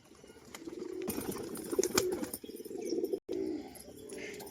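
Pet pigeons feeding together give soft, low cooing calls, with a few brief flutters of wings, close by and fairly quiet.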